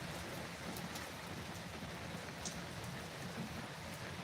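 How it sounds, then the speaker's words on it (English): Rain pours steadily during a thunderstorm, an even, soft hiss of drops on surfaces with a few brief, brighter splashes, continuous and fairly faint throughout, with no voices. "now it's picking up some more, the rain."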